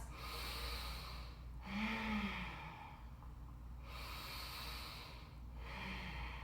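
Forceful breaths during a vinyasa yoga pose, three long rushing exhale-inhale cycles separated by short pauses, close and soft with no speech.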